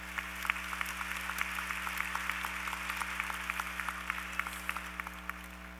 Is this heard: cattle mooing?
no